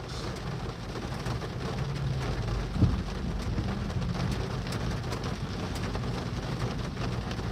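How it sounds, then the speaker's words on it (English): Heavy rain pouring down steadily outdoors, a dense continuous wash of noise with a brief low thump partway through. "It's pouring rain"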